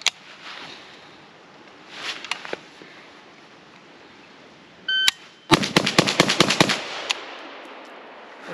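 Rapid string of rifle shots from a Palmetto AK-102 in 5.56, fired as a bill drill on a range: one lone shot, then a quick burst of about eight sharp, loud reports in close succession.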